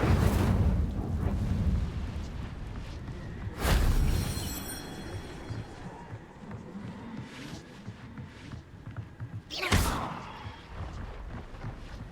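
An Incendio fire spell in Hogwarts Legacy, heard as loud whooshing, roaring bursts of flame: a heavy blast near the start, another around four seconds, and a sharp flare near ten seconds over a rumbling game background.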